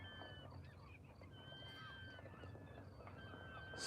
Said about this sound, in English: So many birds on there.